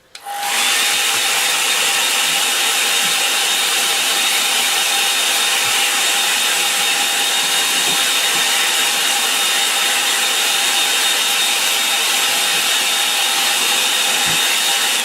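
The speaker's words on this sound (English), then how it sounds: "I dry it off a little bit because it's just a little bit wet across here." Hair dryer drying a wet watercolour painting, a loud, steady whooshing blow with a constant motor whine that starts abruptly and runs unbroken to the end.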